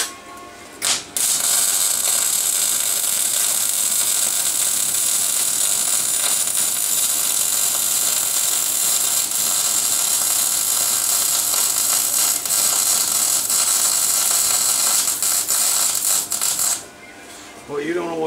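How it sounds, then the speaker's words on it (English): Steady loud arc welding filling in a weld seam, a continuous crackling hiss sustained for about fifteen seconds after a brief start, then cutting off near the end. "Fill in the weld."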